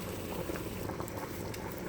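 Potatoes boil in a pot, a steady close bubbling and rolling simmer that continues evenly throughout, with no voices.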